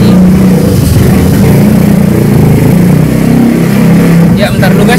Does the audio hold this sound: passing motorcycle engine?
yes